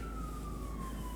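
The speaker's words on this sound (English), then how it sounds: "that was an ambulance that just went by" A distant ambulance siren passes by outside, a faint steady wail sliding slowly lower over a low background rumble.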